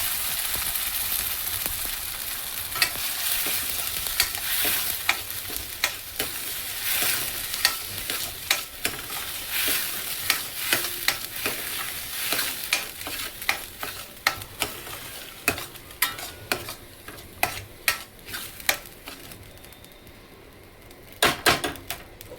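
Spice paste for a brinjal and potato curry sizzles steadily in a pan while a spoon scrapes and taps in repeated strokes, close and clear without talk.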